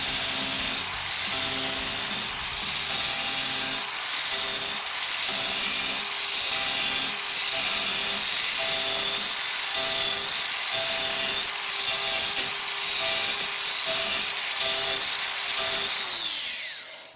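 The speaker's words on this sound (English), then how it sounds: "This grinder, it is amazing just how powerful this thing is." A Dewalt 60V Flexvolt angle grinder fitted with an Arbortech wood carving disc bites into wood, a loud continuous high whine with rhythmic rasping bursts as the disc is swept across the surface, winding down at the end.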